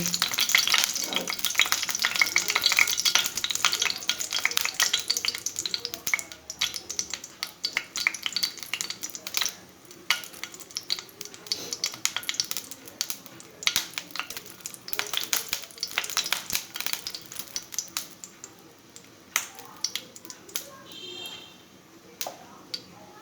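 Chillies and spice seeds frying in hot oil in a pan while cooking khesari (grass pea) greens, a steady crackling sizzle with stirring clinks, some sputter fading slightly toward the end.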